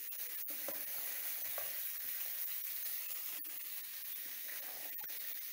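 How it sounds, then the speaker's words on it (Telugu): Pieces of ivy gourd fry in hot oil in a wok, giving a steady close sizzling hiss with a few sharp clicks of stirring. "ఇప్పుడు ఒక మూకుడు పెట్టుకుని దాంట్లో నూనె వేసుకుని అది కాగాక మనం దొండకాయ ముక్కల్ని వేసేసుకోవాలండి"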